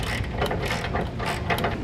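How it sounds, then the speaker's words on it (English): Ratchet wrench with a 17mm socket tightening a small hex bolt into a factory mounting point under a vehicle; rapid, close clicking, continuous through the clip, with no talk. "We'll take our 17mm socket and we're going to thread our hardware, our small hex bolt, right up into our factory mounting location"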